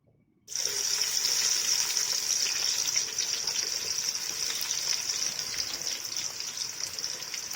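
About one and a half cups of cooking oil pour into a pan for Hyderabadi chicken biryani, a sudden, close, steady gushing stream that begins sharply and runs on evenly for several seconds.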